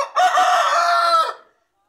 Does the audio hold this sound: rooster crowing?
yes